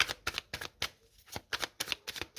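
Tarot cards being shuffled by hand in a series of quick papery riffles and slaps, about ten bursts with a short pause midway, close and fairly quiet with no talking.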